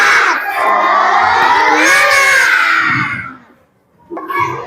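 Schoolchildren in a classroom shout and cheer together in a loud, sustained burst of young voices, which then fades to near silence before a shorter second outburst.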